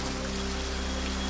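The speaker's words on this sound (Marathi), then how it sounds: "पुण्यामध्ये जोरदार अवकाळी पाऊस, ढगांच्या गडगडाटासह सोसाट्याचा वारा आणि जोरदार पाऊस।" Heavy unseasonal rain pours in Pune, a dense continuous hiss with a steady low electrical hum beneath it and no voices.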